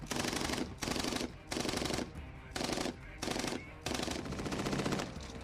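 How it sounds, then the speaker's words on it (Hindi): Machine gun fire rattles in long sustained bursts separated by short pauses, loud and dense, amid urban fighting against IS militants in Iraq. "चारों तरफ से गोलियों की बौछारें हो रही हैं।"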